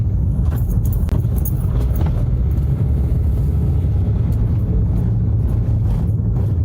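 A car drives from Mamacan toward Bellevue Junction in Grenada on a rainy, overcast morning. A steady, loud low road rumble fills the whole stretch, with faint clicks and rattles and no talking.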